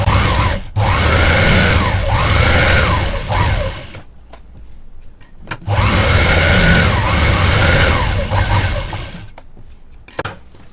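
A sewing machine stitches a blouse in two loud, steady runs of motor whir, each a few seconds long, with a short pause between them and a brief quiet stop before the second run.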